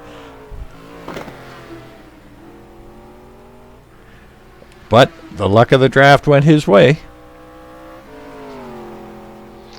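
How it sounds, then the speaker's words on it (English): Sports-car engine of an SR7 GT1 race car in a racing video game around Suzuka, a harsh rising and falling rev burst in the middle, loud and close, with commentators talking over a steady engine drone before and after. "Driving the SR7 GT1 car."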